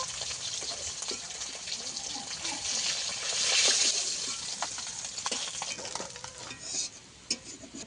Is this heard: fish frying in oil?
yes